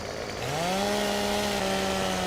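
A McCulloch chainsaw in Farming Simulator 15 revs up after a brief lower idle, then holds a loud, steady, close whine with a slight dip in pitch near the end, and nobody speaks.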